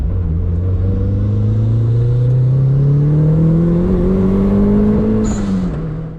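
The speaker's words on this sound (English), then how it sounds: "I'll do a quick pull right here before we go do our 0 to 60" A turbocharged 1.6L Mazda Miata engine revs up hard through the gears, the pitch climbing steadily in a loud, close pull before easing off at the end.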